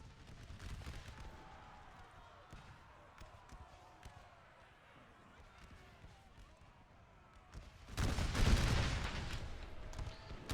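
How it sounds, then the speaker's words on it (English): Musket volley in an American Civil War battle game, a loud rolling crash of many rifles firing together near the end, after quieter distant shots and battlefield ambience. "See that massive volley just nearly wiped out 12th South Carolina"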